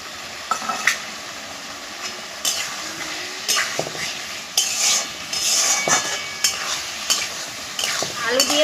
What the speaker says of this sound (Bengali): মশলা কষানো হয়ে গেছে, এবার আমি ভেজে রাখা আলুগুলো দিয়ে দেবো।